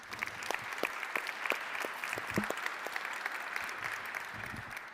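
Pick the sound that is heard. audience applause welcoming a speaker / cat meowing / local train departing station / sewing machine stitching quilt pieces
audience applause welcoming a speaker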